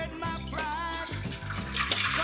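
Water pours steadily into a pot to make a brine for barbecue chicken, a close, bubbling gush that keeps going without a break.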